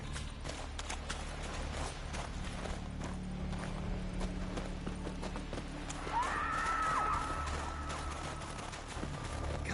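Rhythmic hoofbeats pound steadily in The Witcher 3, accompanied by a brief whinny-like tone and low background rumble.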